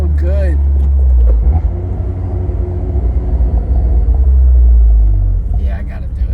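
A turbocharged Abarth 124 Spider with an EC Phase 3 tune and 1446 cc engine gives a deep, loud exhaust rumble from inside the car, swelling and easing, with people talking over it.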